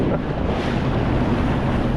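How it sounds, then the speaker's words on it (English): Strong ocean wind roars across the microphone while riding a Sea-Doo personal watercraft on swells, a loud, constant buffeting rush mixed with water and hull noise. "And the winds definitely picked up on us today."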